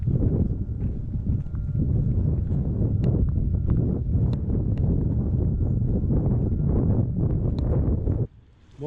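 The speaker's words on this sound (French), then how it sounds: "là il y a du vent, c'est la mer" Strong sea wind buffets the microphone in a steady, loud roar with gusty rumble and rustle for several seconds, then cuts out abruptly near the end.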